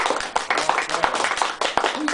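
A small comedy-club audience at an inn clapping in answer to a show-of-hands question, brisk uneven handclaps from a modest crowd lasting about two seconds, with a few faint voices mixed in.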